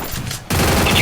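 Gunfire in the mobile battle royale game Free Fire, a burst of shots erupting loudly after a half-second of quieter game ambience and continuing densely to the end.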